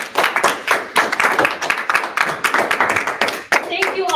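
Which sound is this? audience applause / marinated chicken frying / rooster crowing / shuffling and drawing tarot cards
audience applause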